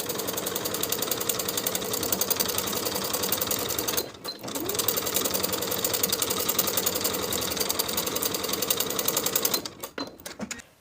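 Sewing machine basting the bottom edge of a dress, a fast even mechanical chatter running steadily with one brief pause around the fourth second, then stopping near the end.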